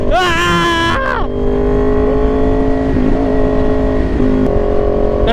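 Kawasaki Ninja 400 motorcycle riding on an expressway, its engine loud and close, revving up in rising whines between gear shifts, then holding a steady droning cruise under heavy wind rush.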